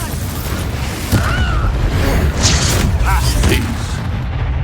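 A Confringo fire-blast spell explodes in Hogwarts Legacy combat, giving a booming burst over a busy battle mix with other spell effects and whooshes.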